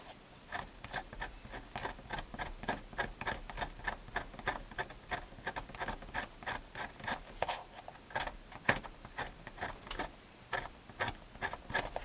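Scribe scratching across a part of a Silvio Soprani 48-bass accordion during restoration, with rapid, steady rasping strokes, close and fairly quiet, and no talk.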